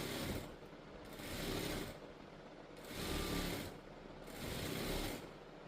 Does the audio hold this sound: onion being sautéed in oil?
no